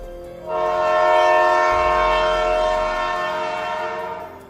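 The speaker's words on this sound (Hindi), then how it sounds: "ट्रेन तो स्टार्ट हो गई है और टाइगर यहीं रह गया।" Cartoon train starting and moving off, a loud, sustained horn blast followed by a low rumble as it pulls away.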